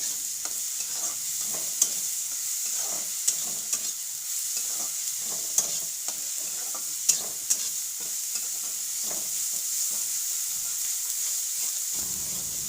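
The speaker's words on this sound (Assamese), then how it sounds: "পিয়াজ আৰু আদা নহৰু পেষ্টখিনি মই ভালকৈ 2 মিনিটমান ভাজি ল'ম।" Onion and ginger-garlic paste frying in a pan, a steady close sizzle with frequent light clicks and scrapes of stirring scattered throughout.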